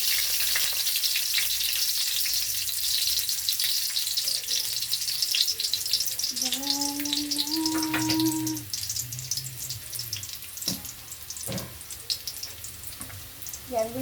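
Garlic sautéing in a pan for a beef and broccoli stir fry, giving a steady close frying sizzle that runs throughout, with brief tonal clinks and utensil knocks partway through.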